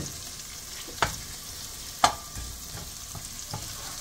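Ginger and thyme sizzle in a hot pan for shrimp fried rice, a steady frying hiss broken by two sharp clicks of a utensil striking the pan.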